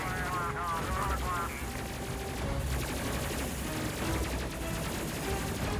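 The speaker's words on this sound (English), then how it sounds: "Let's get that minigun firing again." Sustained minigun fire in the video game Space Crew, a continuous dense mechanical roar of rapid shots with no break, steady and loud, mixed with other game sounds.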